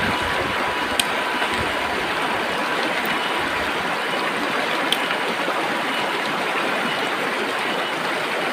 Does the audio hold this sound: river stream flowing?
yes